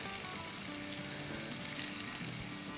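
Medium-chopped tomatoes fry in a pan for a kidney bean curry, giving a dense, continuous sizzle with faint stirring underneath.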